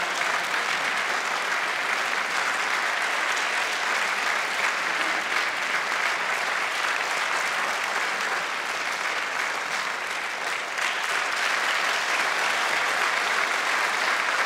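Long, even applause rolls through a hall at a professor's retirement ceremony, a large crowd clapping steadily and loudly without pause for the whole stretch, with no speech on top.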